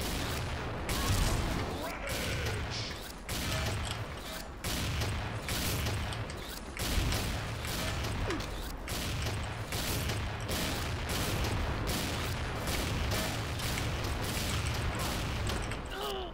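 A sniper rifle fires in the online shooter XSHOT amid a dense, loud barrage of rapid gunshots. The cracking reports repeat continuously across the whole stretch, with no pause.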